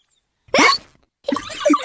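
Cartoon piglet hiccuping in a children's animation: two short, sharp hiccups, the first a loud squeaky gulp, the second a longer bubbly one, close and alone against silence.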